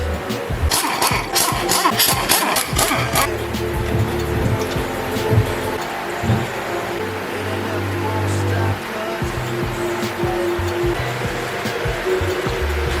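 A well-maintained car engine idles steadily and close by, a continuous low rumble with sharper clattering bursts early on and mechanical noise throughout.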